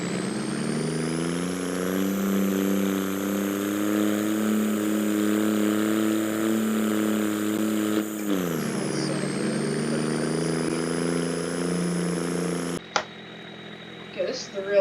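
Grandpa's tractor engine running with most of its tires off the ground, a steady droning hum that dips in pitch partway through and cuts off abruptly near the end, followed by faint clunks.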